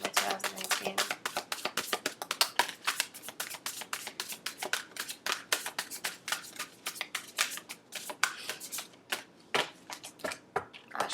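Tarot cards are shuffled up close, a quick flurry of crisp riffling snaps repeating in uneven bursts with short pauses, quiet and without talk.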